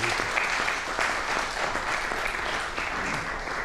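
A TV chat show studio audience applauds to welcome guests, with steady, full, close clapping throughout and no clear voices over it.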